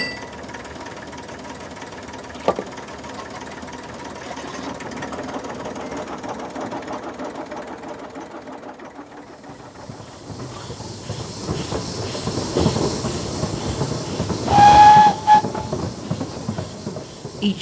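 A diesel locomotive hauling a train up the line, starting as a quiet low rumble and then growing into a loud, hissing, clattering run that swells to a peak near the end.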